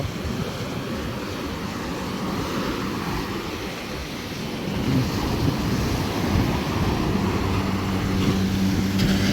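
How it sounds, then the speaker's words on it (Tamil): Fishing boat motoring in toward the shore at a busy morning seafood market in Jaffna, a steady low engine drone mixed with wind and surf noise, continuous and moderately loud, growing slightly stronger in the second half. "இப்போ வந்து பார்த்தா எங்களோட போட் வருது"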